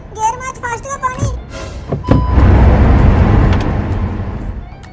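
A car on a village road picks up speed after a gear change, its engine and road noise swelling into a steady rumble after a few seconds of voices talking.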